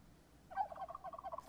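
Turkeys gobble in the Project Zomboid video game, a quick run of rapid, bubbling calls that starts about a third of the way in and keeps going to the end, moderately loud over a quiet background.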